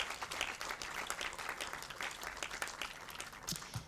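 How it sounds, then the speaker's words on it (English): Crowd applause at an outdoor mural celebration, a short burst of steady clapping heard at a distance and fairly quietly, with no speech over it. "let's give a round of applause to these groups that make this happen."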